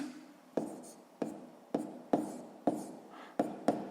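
A pen writes math on paper: close, crisp scratches and taps in short strokes roughly every half second, each fading before the next, with no talk.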